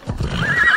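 Horse in Assassin's Creed Odyssey lets out a loud, close whinny rising over a few quick hoofbeats, the neigh sustained to the end of the short burst.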